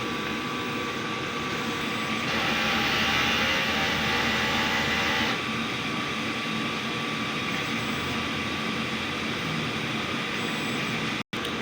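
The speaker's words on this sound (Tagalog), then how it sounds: "Press lang natin yung clean." A DTF printer runs its head-clean cycle, a steady mechanical whir and hum of the pump and carriage that holds at an even level and cuts off abruptly at the end.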